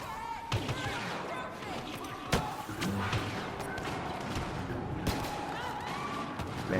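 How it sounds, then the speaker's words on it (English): Scout pistol headshots in Star Wars Battlefront, a few sharp gunshot cracks spread over a continuous din of game action and effects, fairly loud. "Man, scout pistol headshots, they're satisfying as anything."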